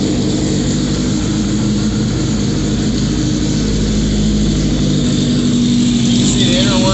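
A lawn mower engine idles steadily up close, a continuous low rumble with an even, unbroken drone throughout.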